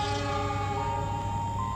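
Locomotive horn of the Lodaya train sounding the Semboyan 35 signal, a steady, loud, sustained multi-tone blast held through the whole stretch over a continuous rumble of rail noise.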